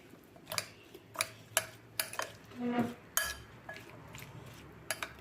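Mango curry being stirred in a pan, a spoon scraping and clinking against the metal in separate, sharp knocks at irregular intervals, close up and fairly quiet.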